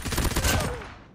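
Gunfire in Call of Duty during ranked multiplayer, a dense burst of loud rapid shots tailing off within about a second.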